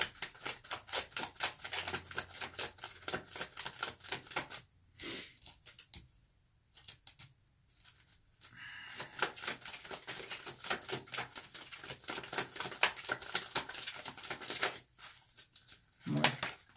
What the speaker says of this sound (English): I'm just going to pull cards